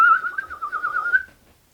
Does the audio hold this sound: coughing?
no